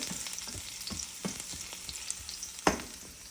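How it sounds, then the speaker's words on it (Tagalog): Leftover food sautéing in a pan, a steady quiet sizzle broken by several sharp scrapes and knocks of a utensil against the pan, one louder clack near the end, with no talking. "igigisa ko lang to"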